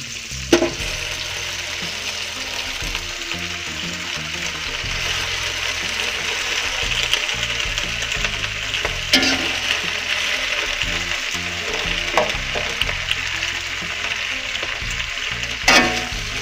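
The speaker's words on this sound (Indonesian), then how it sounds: "kemudian kita masukkan daun sayur bayamnya" Spinach leaves stir-fried with fragrant spices in a pan, giving a continuous dense sizzle with occasional knocks of a spatula stirring, steady and fairly loud with no talking.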